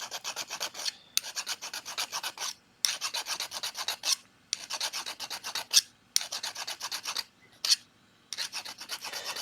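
Hand filing rounds the inside edge of a metal coin ring, a steady series of rasping strokes in bursts with brief pauses between them, close and fairly loud with no talking.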